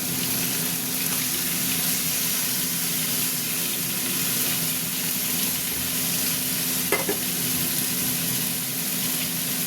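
Marinated chicken added to a hot pan of softened onion and tomato for a chicken curry, a loud, continuous close sizzle with faint stirring scrapes and a brief clink near the end.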